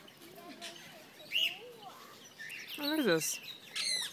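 Lorikeets calling in an aviary at Palmerston North Esplanade, with a few short squawks and chirps scattered across a moment, one louder rasping burst in the middle, under brief talk from people nearby.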